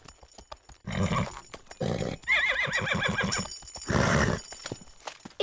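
A horse whinnies loudly in a long, wavering neigh, framed by snorts and breathy blows, close and clear with brief pauses between bursts.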